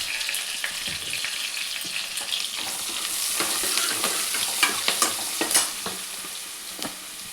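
A tempering for Telangana-style pappu charu fries in hot oil with turmeric, giving a close, steady sizzle broken by crackles and the scraping taps of stirring, with no talk.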